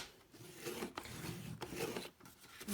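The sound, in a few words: scoring an A4 card sheet for a Dutch door card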